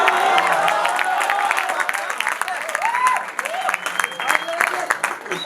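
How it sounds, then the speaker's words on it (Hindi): Audience claps and cheers at a Hindi comedy poetry show (hasya kavi sammelan), dense sustained applause from a large crowd with voices calling out over it throughout. "इतनी ताली बजा रहे हो, तुम्हारे भी है क्या?"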